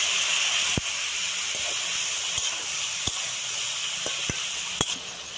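Marinated ridge gourd fries in a pan, giving a steady, even hiss and sizzle broken by a few sharp crackles and pops, close and alone.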